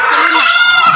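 A chicken clucks loudly and close for a brief moment, a single rough squawking call with no voices around it.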